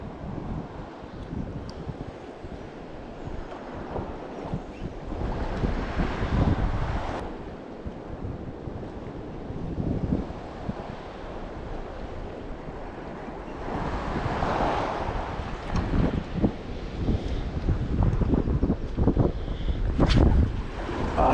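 Gusty seaside wind buffeting the microphone on a Breton shore during sea fishing, rumbling and roaring in surges over the wash of surf, with no talking.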